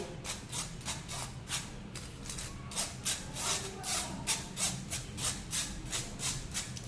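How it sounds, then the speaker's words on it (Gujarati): Gram flour (besan) is sifted by hand through a sieve in a home kitchen, giving a steady rhythmic rubbing, shaking rasp that repeats quickly for several seconds with no talking. "આ ચણાનો લોટ તો ચાળવો જ પડે"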